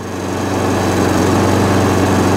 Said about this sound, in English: Doing everything it should do little push mower, got it for nothing, new pull board, good to go.